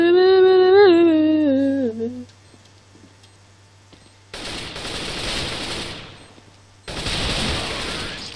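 Gunfire from a CS:GO gunfight comes in two loud, dense bursts of rapid shots separated by a short lull, following a stretch of sung humming at the start.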